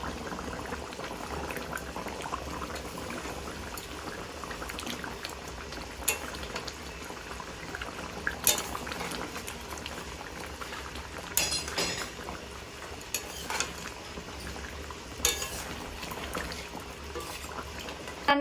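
Chicken curry in a thin, lightly spiced gravy bubbles steadily in a pot, a continuous close simmer with occasional sharper clinks and pops breaking through, and no talk.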